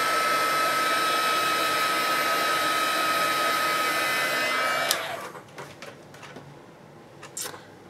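A hand-held hair dryer blows a loud, steady whine while drying stencil paint, then switches off about two-thirds through, leaving light clicks and handling noises.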